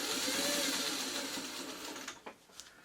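Sewing machine stitching steadily along a marked stitch line on palm-leaf pattern pieces, a continuous close whir that fades out after about two seconds, followed by a few faint clicks and taps.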